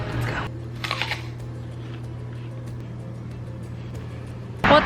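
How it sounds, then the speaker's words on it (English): Traffic crossing a bridge makes a steady, loud roadway rumble and low drone throughout, with a brief louder swell of passing vehicles near the start and end. "I am on a bridge right now, so it's really loud from all these damn cars driving."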